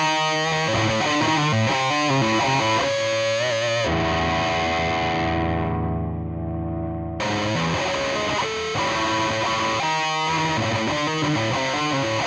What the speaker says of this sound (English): Silicon distortion.